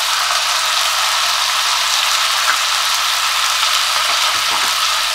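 Pigeon peas drop into a hot frying pan for Surati undhiyu, setting off a loud, steady sizzle of oil that stays constant and close throughout.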